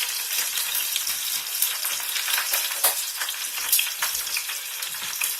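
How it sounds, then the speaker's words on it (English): Chicken skins fry in oil that sizzles loudly and continuously, with frequent sharp crackles and pops scattered irregularly through the hiss. "there's a lot of popping going on in this one."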